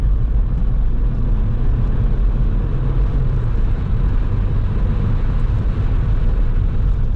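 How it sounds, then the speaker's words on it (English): Steady wind roar with a low road rumble fills the cabin of a moving Cavalier Diplomat, its passenger window not fully closed, holding constant and loud throughout with no talking. "a little bit of wind noise, but that's because that passenger window's not going up right"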